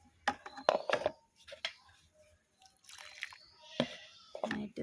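A water mixture in a mug being rinsed out and poured, giving splashy, dripping bursts in uneven spurts with pauses, heard close up and without talking.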